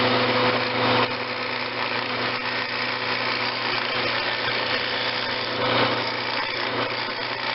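A spear-point chisel turns a tenon on a wood lathe for a paraffin lamp, giving a steady, even whirring scrape with a brief louder swell near the start and again later.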